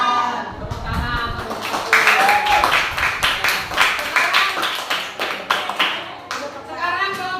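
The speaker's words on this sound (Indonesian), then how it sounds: "Tepuk tangan." A classroom group claps for classmates after a presentation, a run of uneven, close individual hand claps that sometimes fall into rough unison, with voices mixed in.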